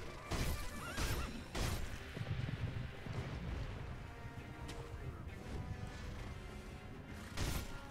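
A horse whinnies loudly several times in Sekiro: Shadows Die Twice, alongside heavy crashes and thuds, with rumbling game action noise filling the background.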